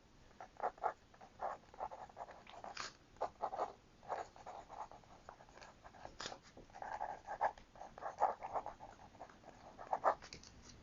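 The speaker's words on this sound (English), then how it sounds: "I'm going to write it down right now so I don't forget" Pen or pencil writing on paper at close range, faint scratchy strokes in short irregular bursts with brief pauses, no talking.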